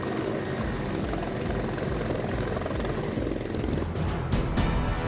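A helicopter carrying Uttar Pradesh's chief minister, which made an emergency landing at a police line after a bird strike, thrums with a loud, steady rotor drone throughout.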